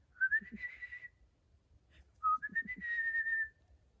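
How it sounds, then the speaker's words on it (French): Two short whistled phrases from a man, clear and close, with a brief gap between them. "à chaque fois que je siffle"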